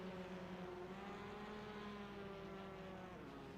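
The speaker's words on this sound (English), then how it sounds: "The revving car you can hear is Lee, who entered the pits after him." A race car in a TCR racing video game at Virginia International Raceway idles and revs in the pit lane, a steady droning engine tone that holds throughout, with no one talking.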